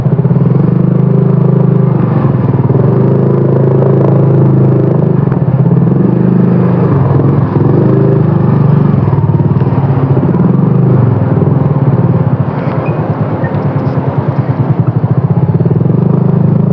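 Motorcycle engine running steadily for the whole stretch on a ride toward Baliwag, with a constant low rumble and some rattle, loud and close, with no talk over it.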